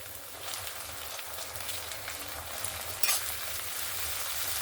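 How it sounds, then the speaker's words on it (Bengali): Steady close sizzling and spattering of ginger and garlic paste frying in a pan with onion and tomato, continuous and fairly loud with a brief sharper crackle partway through, no talk. "এবার আমি এখানে আদা রসুন বাটা দিয়ে দেব।"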